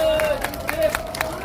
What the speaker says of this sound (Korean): 여러분 다시 한번 행사를 준비하신 모두에게 큰 소리를 박수 한번 쳐주시기 바랍니다.